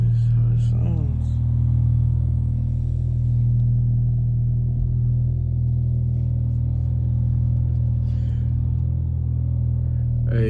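A Mk7 car with a turbocharged engine runs at a steady idle, producing a loud, continuous low rumble close by with little change in pitch.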